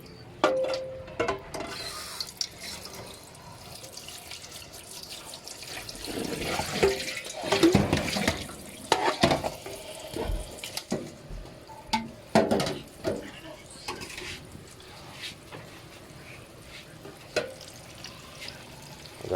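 Bamboo shoots and jute leaves rinsed under running water, a steady splashing stream with irregular sloshes and clatters of handling, fairly close, with no talking.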